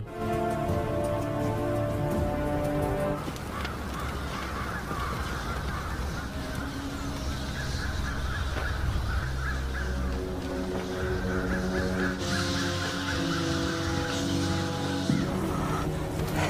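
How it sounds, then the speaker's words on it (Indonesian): A loud, dense flock of birds with goose-like honks and crow-like caws, the calls overlapping continuously and close by, with a sudden surge of wingbeats and squawks as the birds take off together. "Namun tiba-tiba burung-burung berterbangan"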